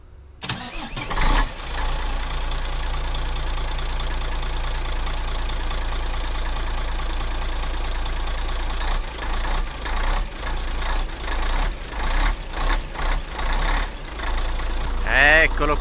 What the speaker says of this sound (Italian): qua senti come suona il motore Mercedes era uno start quasi cold